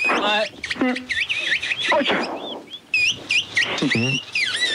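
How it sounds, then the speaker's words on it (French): Small birds chirp and tweet in quick bright bursts, close and fairly loud, with someone speaking French over and between the calls. "il y a des oiseaux"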